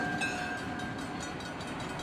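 Steam locomotive 1225 leads an excursion train, giving a steady, dense rumble with a sustained whistle-like tone. No speech is audible.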